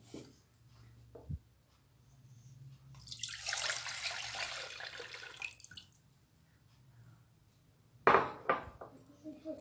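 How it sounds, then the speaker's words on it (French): Juice pours into a saucepan in a steady broad rush for a few seconds, followed by a couple of sharp clatters of the pan. "Maintenant, je le verse dans une casserole."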